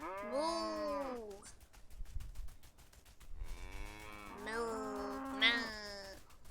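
Cow mooing in the video game Everything: two long drawn-out moos with rising and falling tones, loud and close, separated by a short pause and heard without speech.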